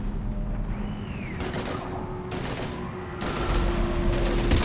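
Gunfire crackles in Mass Effect 3 in repeated loud bursts of rapid shots, separated by brief lulls and building heavier toward the end over a low background rumble.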